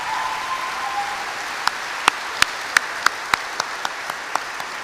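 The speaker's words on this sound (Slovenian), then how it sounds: "En aplavz, prosim, za vse profesore" A school assembly at Gimnazija Franca Miklošiča Ljutomer gives applause for the teachers: a soft crowd murmur gives way to crisp, fairly close handclaps that fall at a steady, spaced rhythm and gradually fade.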